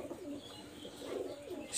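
A female pigeon with red eyes coos softly up close in a coop, giving low, rolling coos in a short run with a faint murmur of other birds behind.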